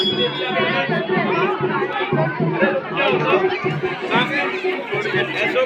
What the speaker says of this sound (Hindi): माता रानी के मंदिर में बहुत भीड़ लगने लगी है